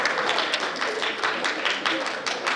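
An audience at a middle school holiday band concert claps in a sustained, even burst of applause filling the room, with faint crowd murmur mixed in.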